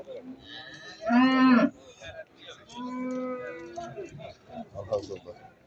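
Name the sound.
cattle mooing at a livestock market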